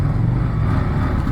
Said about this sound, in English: let's take a listen to the sound of this motor and the engine